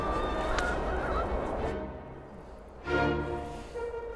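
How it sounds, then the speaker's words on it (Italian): Chickens and roosters make agitated squawking and honking calls, loud and close, first a busy cluster and then a second burst of calls in a poultry yard. "È pieno di galline qua."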